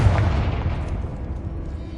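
A Confringo blasting spell detonates in Hogwarts Legacy, a heavy, booming explosion that hits at once and rumbles low as it slowly fades.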